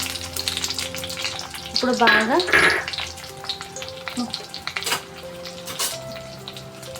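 Finely sliced onions go into hot oil in a pot for chicken biryani, with the whole spices already in, and fry with a loud crackling sizzle and clinks of the utensil against the pot as a short word is spoken.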